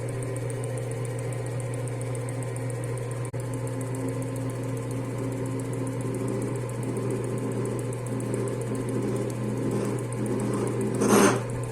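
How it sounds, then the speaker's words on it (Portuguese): A metal lathe cuts a chamfer on a part for a projector mount, giving a steady motor hum with a faint whirring tone throughout and a brief sharp scrape near the end, with no voices. "o que eu vou fazer agora aqui é fazer um chanfro, tanto aqui quanto aqui"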